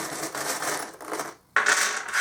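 Small divination charms dropped onto a surface during a tarot-style reading, giving a close, bright clatter and jingle, then a short pause before a second sharp spill of tinkling pieces, with no voice over it.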